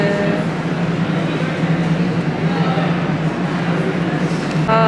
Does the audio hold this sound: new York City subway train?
yes